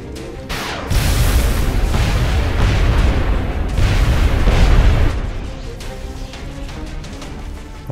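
Gunfire and a heavy explosive boom from a turn-based tactical battle in XCOM: Long War, loud and rumbling, followed by a sustained low roar that fades over several seconds.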